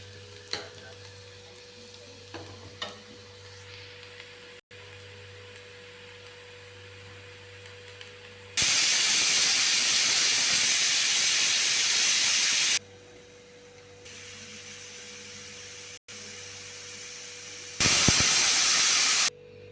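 A pressure cooker of moong dal vents steam in loud, continuous hissing bursts, each holding steady for a few seconds before cutting off, with quieter stretches of low hum between them.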